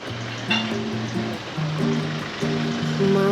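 Sea waves wash in at the shore with a steady rushing hiss and swelling surges, heard up close and fairly loud, with a faint tonal hum underneath and no talk.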